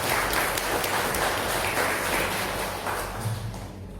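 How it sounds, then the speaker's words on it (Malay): Crowd applause at a Buddhist Dharma assembly and fire puja ceremony in a temple in Semarang, Indonesia, a dense steady clapping that holds for several seconds and slowly thins toward the end. "Tepuk tangan buat kita semua."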